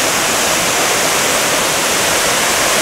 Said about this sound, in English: And oh, there's the waterfall.